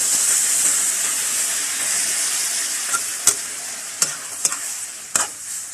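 A loud, close, steady hiss of stir-frying for a glass noodle dish as a splash of water hits the hot, dry pan, with a few sharp clicks of a spatula against the pan near the end.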